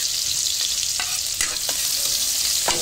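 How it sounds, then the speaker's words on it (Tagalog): Garlic and onion sauté in a pan with a constant loud sizzle, broken by a few sharp clicks and scrapes of a spatula stirring; no voices. "pinalitan natin yung kawali para naman po magigisa po tayo ng bawang"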